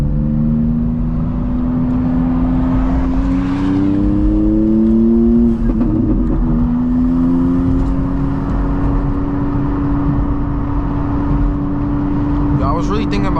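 A 600HP manual BMW M2 accelerates hard, its engine note climbing steadily, dipping briefly at a gear change, then pulling up again, loud and close from inside the car.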